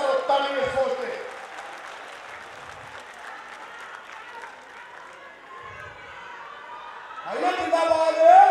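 Crowd at a political rally clapping, a short burst of applause at the start, then a lull of distant crowd noise, with a loud speaker's voice over a PA breaking in near the end.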